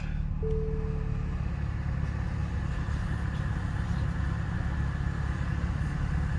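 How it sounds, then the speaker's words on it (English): A Nissan Z Nismo sports car engine idles in a steady low rumble, heard close and continuous, with a brief electronic tone near the start. "Foot on the brake. Hit the start stop button. Comes alive."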